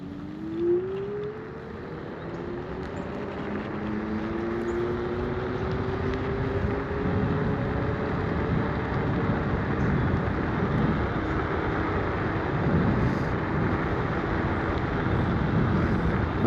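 An AUSOM L1 electric scooter rides in sport mode, its motor whine rising in pitch as it speeds up under a steady, heavy rush of wind and road noise.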